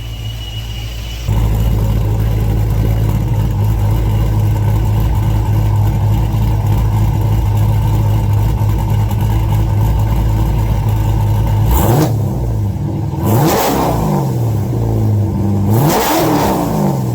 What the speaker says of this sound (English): I'm gonna give it a few revs, not nothing crazy.